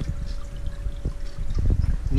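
Water pouring freely from the outlet pipe of a DCT 4000, a steady, fairly loud splashing gush with small surges and no voices over it.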